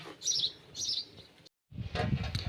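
Sparrows chirp in quick, bright bursts close by at a feeder tied to a tree, a busy twittering that stops briefly and then resumes.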